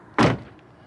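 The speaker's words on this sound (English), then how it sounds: "Watch as I close the door, I get into the car." A Mercedes C300 car door shuts with a single close, solid thunk, followed by a quiet cabin.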